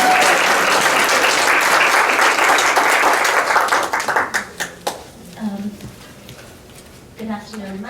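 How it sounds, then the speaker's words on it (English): Loud, dense applause from a luncheon audience fills the room, then thins out into scattered claps as a voice begins speaking. "can we give them a round of applause?"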